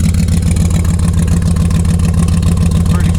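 A 1973 Chevrolet Blazer engine idles steadily through glass pack mufflers, a loud, close, even low rumble with a regular pulsing beat and no talking.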